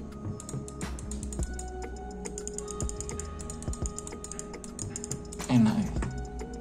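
Asus ROG Chakram Core gaming mouse clicked at close range, light sharp clicks spread under someone talking, with a louder handling bump near the end.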